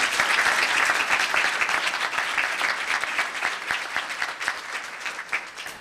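Students receive a sustained round of audience applause at a Los Gatos town council meeting, dense and loud from the start and thinning slightly toward the end, with no talking over it.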